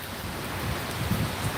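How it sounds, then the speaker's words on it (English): Rain falling outdoors, a steady broadband hiss with a low rumbling undertone, close and moderately loud for a brief moment, with no voices. "I got caught in the rain."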